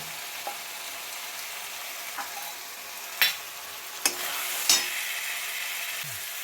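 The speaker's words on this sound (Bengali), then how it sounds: "এটাকে ভালো মতন কষানো হচ্ছে চিকেনটাকে।" Chicken with garam masala sautéing in a pan, a soft continuous sizzle punctuated by several sharp scrapes and knocks of a spatula, close and without talk.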